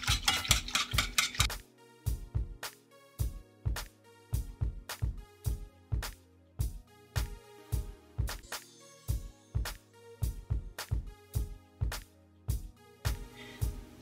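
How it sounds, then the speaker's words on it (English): A whisk scrapes and clinks rhythmically against a metal pot on a hot stove as a cheese sauce thickens, with quick repeated strokes close by and no voices. "keep whisking until this thickens up"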